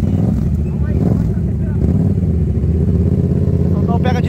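Two motorcycles lined up at the start of a drag race rev hard, a loud continuous engine drone with rattling, close to the listener and filling the whole stretch.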